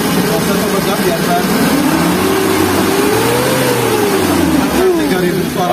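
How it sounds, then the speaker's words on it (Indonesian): A used 2009 Suzuki Carry Futura 1.5 pickup engine idles steadily up close, its pitch rising and falling through a smooth rev, with a person talking over it. "Nah, kita starter, suaranya masih halus."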